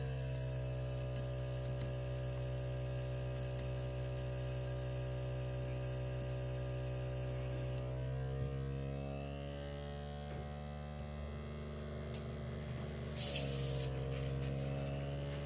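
A steady airbrush spraying cleaner through hisses for about eight seconds, then stops, leaving a low hum and a brief sharp burst of air near the end.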